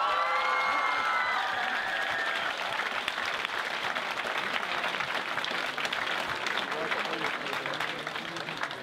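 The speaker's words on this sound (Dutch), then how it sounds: "Wat mij betreft nog één keihard applaus voor ze." An audience at a Glamour Night 2017 event breaks into loud, sustained clapping with some cheering, a dense crowd sound that carries steadily and tapers slightly toward the end, with faint voices in the mix.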